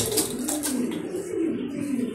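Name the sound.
racing pigeons cooing in a loft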